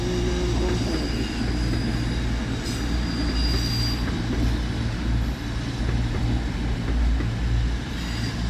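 A CrossCountry passenger train on the 0745 Birmingham New Street to Manchester Piccadilly service rumbles loudly through Crewe railway station, with heavy continuous wheel and engine noise and faint squealing throughout.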